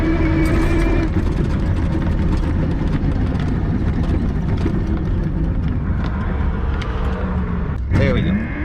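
A PEBL eco-friendly vehicle driving on city streets in Dallas: a steady, loud hum of motor and road noise holding level throughout, with a brief change near the end.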